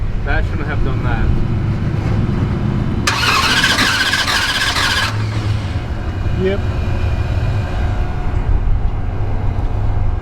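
A Hemi Dodge Durango, damaged after a burnout, cranks over and settles into a rough idle, with a sharp hissing burst midway and a brief squeal, close by under a short spoken word.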